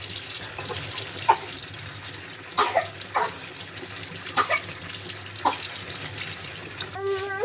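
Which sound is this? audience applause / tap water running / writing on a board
tap water running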